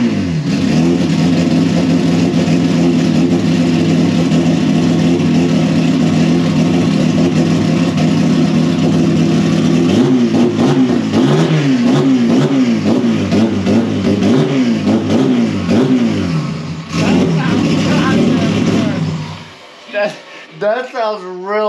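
A car engine at a speed fest revs hard and loud throughout, its pitch wavering up and down through repeated throttle blips, then cuts off abruptly near the end, leaving faint sputters.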